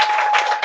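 A short burst of applause from a church congregation at a worship service, steady clapping that fills the room, with no voices standing out.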